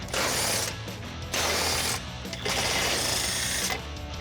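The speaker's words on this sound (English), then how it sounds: "We're using a 15mm short well socket with a 6-inch extension." Ratchet wrench with a 15mm short well socket on a 6-inch extension backing out bumper beam bolts on a 2016-2026 Volvo XC90, giving close, loud bursts of rapid clicking separated by brief pauses.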